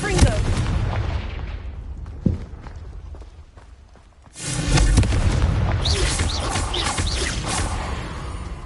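A Confringo fire spell cast in Hogwarts Legacy: a low, booming blast rolls in after a dim stretch and is followed by crackling, rumbling debris. Footstep-like shuffles sit underneath it, and a voice speaks in the scene.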